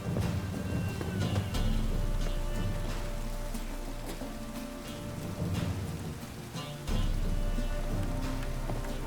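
Continuous heavy rain in a video game, The Witcher 3: Wild Hunt, patters down with low rumbling underneath, a steady downpour that swells and thickens partway through.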